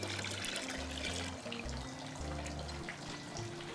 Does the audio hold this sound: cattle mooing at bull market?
no